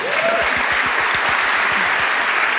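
An audience claps in polite, restrained golf-style applause, a steady close patter of many hands with a faint, low rhythmic thump beneath it and no speech.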